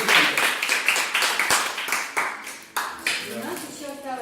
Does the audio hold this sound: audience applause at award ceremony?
yes